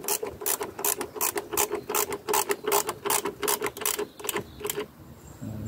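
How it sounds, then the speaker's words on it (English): A powered ratchet spinning a 10mm socket on the engine bolts of a Volvo, giving a fast run of evenly spaced clicking bursts that stop abruptly near the end, close and clear with no talking. "Oh, I missed my powered ratchet."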